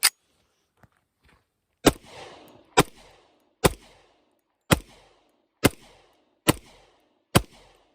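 Springfield TRP 1911 pistol fires seven sharp, loud shots at a steady pace of roughly one per second, each crack followed by a short ringing echo, with a faint click before the first.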